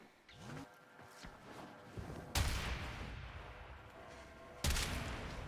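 Shotgun blasts in the video game Warframe, two sharp loud booms a couple of seconds apart over a busy backdrop of game sound and earlier rumbling effects.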